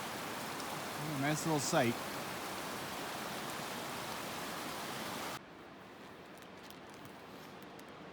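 Steady rain falling in an upper mountain valley on a backpacking trip, a dense continuous hiss of drops, with a person speaking briefly near the start and the level dropping partway through.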